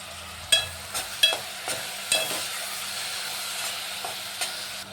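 Tomatoes tossed into a pan of fried onion, green chilli and curry leaves for a simple tomato chutney, giving a steady sizzle with several sharp scraping stirs of a spoon against the pan, close and moderately loud.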